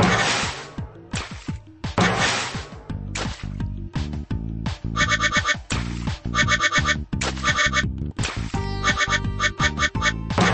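Rubber duckies quack over and over in a Bubble Guppies video game, short cartoon quacks in quick bursts mixed with bright game jingles and chimes, loud and close throughout.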